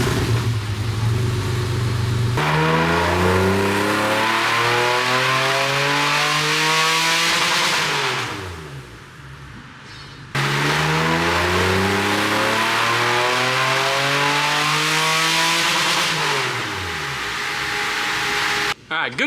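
A Porsche 964 engine revs hard on a dyno in two long sweeping pulls, each climbing in pitch and then dropping away, loud and close with a brief lull between runs.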